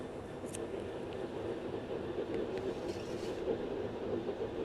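A broken-down train with an electrical fault in the video game Train Sim World 4 runs on rails with a continuous low rumble and faint clicks, steady and fairly quiet throughout.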